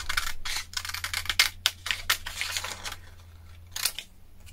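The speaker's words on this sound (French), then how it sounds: "Et puis on va se découper notre petite étiquette." Scissors snipping out a small paper label for a junk journal craft page, heard as a close run of quick, crisp clicks and cuts in irregular bursts, with no talking.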